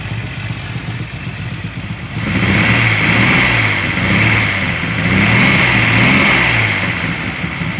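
A 1972 Datsun Cedric engine idles with a steady rumble, then rises and falls through two throttle revs, close and loud with no voices.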